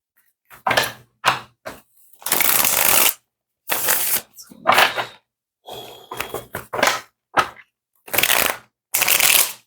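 Tarot cards are shuffled in a series of sharp riffling bursts separated by short pauses, close and crisp, about a dozen in all.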